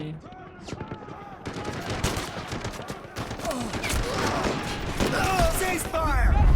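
Bursts of gunfire in the shooter game Delta Force: Black Hawk Down crackle in rapid, overlapping volleys, some automatic, with sharp loud shots building toward the end and players' voices talking under the firing.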